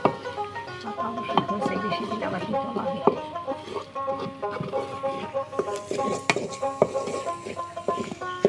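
Food being stirred while it cooks in a pan for a traditional Bengali village khatkhati dish, with repeated scraping and clinking of utensil on metal and a faint sizzle under it, close by, while people talk throughout.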